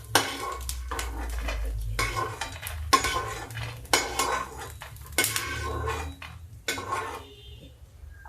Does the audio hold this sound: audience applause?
no